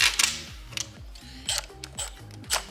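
A 10mm socket ratchet clicks in quick bursts while loosening a bolt on a K-series AWD/FWD transmission during disassembly, close and sharp with short pauses between strokes.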